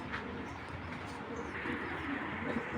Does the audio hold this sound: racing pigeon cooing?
yes